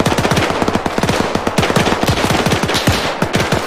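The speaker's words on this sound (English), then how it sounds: "Wait for the MG42 to reload, then go." Rapid bursts of MG42 machine gun fire in the World War II Battle for Berlin setting of Arma 3, a loud, dense rattle of shots repeating steadily with no one talking.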